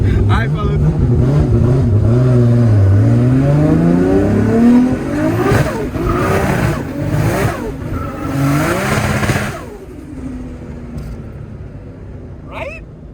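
A 1250 wheel-horsepower car with a turbocharged RB30DET engine revs hard and accelerates with wheels spinning, its pitch climbing and falling in loud surges, with voices talking over it before it fades.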